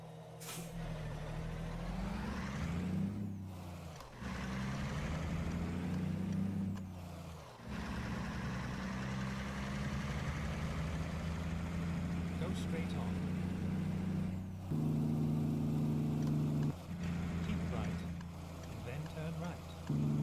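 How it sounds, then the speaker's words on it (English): A vehicle engine and exhaust give a continuous low rumble with shifting tones and occasional hissing bursts, while people talk over it throughout. "Is it the engine that makes the sound or the exhaust pipe?"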